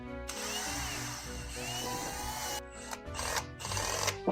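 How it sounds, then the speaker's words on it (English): A Milwaukee power drill mixing cake batter whirs steadily at close range, its motor pitch wavering under load with brief dips and surges near the end. "using the good old drill today"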